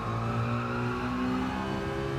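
Citroen race car engine in Gran Turismo 7 drones at a steady, sustained pitch, a near in-car hum with a slight rise in tone, no voices over it.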